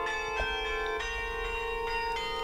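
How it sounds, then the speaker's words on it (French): Carillon bells ring out from the Saint-Christophe church tower in Tourcoing, a large neo-Gothic church whose carillon has 62 bells spanning five octaves, playing a tune note after note with sustained ringing overtones. "La ritournelle Vive Tourcoing s'égrène note après note du clocher de l'église Saint-Christophe."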